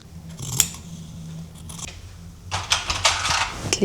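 Scissors snip through dress fabric pieces, close and crisp, with a few isolated cuts early on, then a quicker run of snips near the end over a quiet room.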